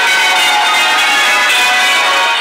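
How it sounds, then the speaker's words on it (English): Church bells at St Andrews ring for an Easter Sunday service, a loud, sustained wash of overlapping metallic tones humming steadily and evenly with no clear individual strikes and no talk. "Resonant and welcoming, the bells at St Andrews drew to church an overflowing congregation of the faithful"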